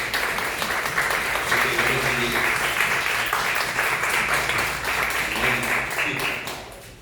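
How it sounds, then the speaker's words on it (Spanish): A church congregation claps together during a Spanish-language worship service, a loud, steady burst of applause lasting several seconds before fading out at the end. "vamos a dar un aplauso al Señor por ello"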